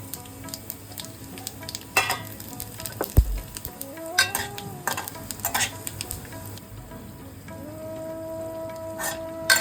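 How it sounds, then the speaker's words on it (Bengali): Cumin, dry chilli, whole garam masala and a bay leaf crackling in hot oil for a tempering, a continuous close sizzle broken by spatula scrapes and pan knocks. "এবার আমি জিরে, শুকনো লঙ্কা আর হোল গরম মশলা আর একটা তেজপাতা ফোড়নে দিয়ে দিচ্ছি"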